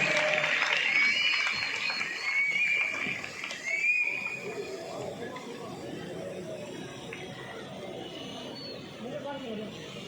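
A crowd claps at a children's prize-giving ceremony, a dense wash of applause that is strongest early and then thins into a murmur of chatter and scattered voices.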